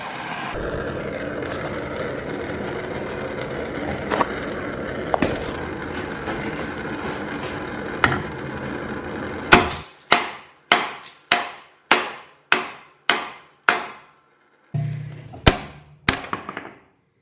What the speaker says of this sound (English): you just smack the center and it should allow these rear bushings to pop out